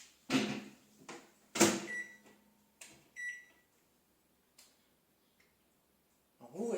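A combination microwave grill oven starts up for seven minutes at 900 watts to cook chicken with paprika and potatoes, giving a few sharp clicks and beeps spaced apart, then a quiet hum, with no talk.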